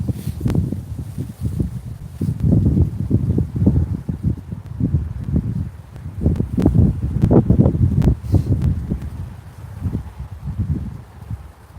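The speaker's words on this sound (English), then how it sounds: "the wind's quite brisk out here" Brisk wind blows outdoors at an eagle-watching spot, a steady low rumbling buffet across the microphone with gusting swells and no talk.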